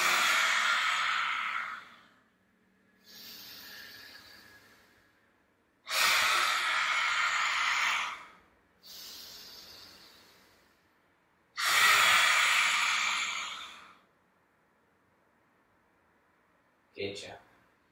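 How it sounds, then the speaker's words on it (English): Children doing yoga lion's breath, exhaling forcefully with a breathy hiss three times in a row, each long exhale followed by a quieter inhale, close and clear with silence between. "as you breathe out, you'll press your chest forward, stick your tongue out, and make a hissing sound"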